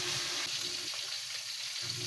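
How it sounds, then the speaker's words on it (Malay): Continuous crackling sizzle of fish frying in hot oil, close and steady, with a brief dip in the low rumble midway. "goreng hingga masak ya."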